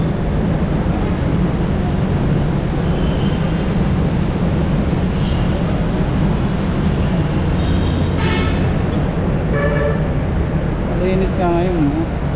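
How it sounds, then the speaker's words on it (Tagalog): An LRT train rumbles past toward Fernando Po Jr. station at a busy Pasay rotonda, with loud continuous wheel roar, faint high squeals and traffic noise. Voices talk over it. "LRT going to Fernando Po Jr."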